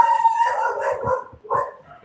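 A pack of dogs howls and barks together, a loud wavering howl with overlapping yips and barks heard nearby.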